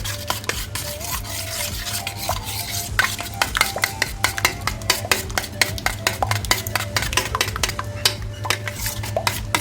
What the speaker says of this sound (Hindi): अच्छी तरह मिक्स करें कि इसमें गुठलियाँ ना हो।